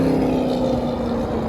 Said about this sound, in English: a Seat Me Electric just drove by, and right behind it was a great big thumping V8